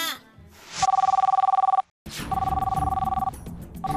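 A cartoon telephone rings in an animated Bengali children's series, sounding in two loud bursts of rapid electronic trilling with a brief silent gap between them, over faint background sound.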